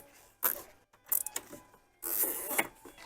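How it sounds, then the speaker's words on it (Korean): Tool tightening a copper terminal while installing a Bosch two-sensor electric fan in a Kia Mohave The Master: short metallic ratcheting and clicking bursts, close and fairly loud, with brief pauses between. "동관 단자라서 조금 세게 조여줍니다."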